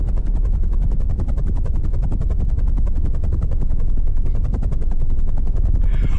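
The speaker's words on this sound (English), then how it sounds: "I can't hear you over the helicopter!" A helicopter roars continuously and loudly at close range, its rotor beating in a fast, steady rhythmic thump throughout with no talk audible.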